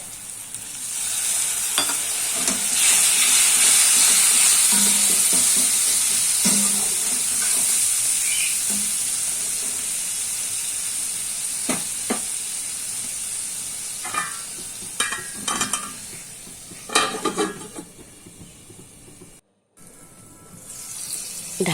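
Spices with tomato and onion fry in a covered pan for tangra fish curry. The sizzle and hiss build to a strong steady roar and then fade into sporadic pops and scraping stirs.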